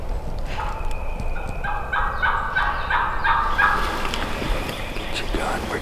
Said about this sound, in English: Quite a few turkeys in there.